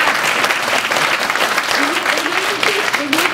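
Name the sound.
audience applause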